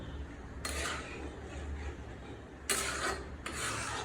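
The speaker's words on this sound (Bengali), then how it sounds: "আমি সজনে ডাঁটাগুলো এরকম করে খোসা ছাড়িয়ে কেটে নিচ্ছি" Drumstick (moringa) stalks being peeled and cut by hand, heard as short rasping scrapes in two or three bursts over a quiet kitchen background, close and moderately soft, with no talking.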